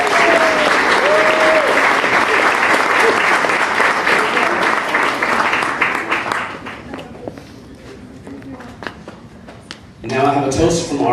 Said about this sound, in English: Let's give Alicia a big round of applause